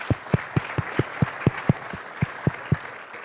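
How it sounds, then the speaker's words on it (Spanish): An audience applauds at a panel event, heard as a steady series of distinct, evenly spaced claps, fairly close and moderately loud, with no talk over them. "Un aplauso para Rodrigo."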